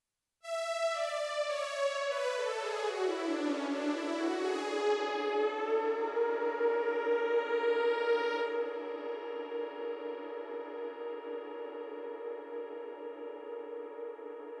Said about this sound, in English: It's using a reverb called Space, which is the last reverb type in the D50.